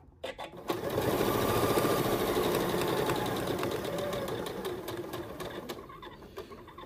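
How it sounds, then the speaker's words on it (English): Sewing machine stitching around a fabric fold-over clutch bag, a steady fast mechanical whir running for several seconds, close and continuous, slowing and stopping with a few clicks at the end. "I'm just going to stitch all the way around the bag."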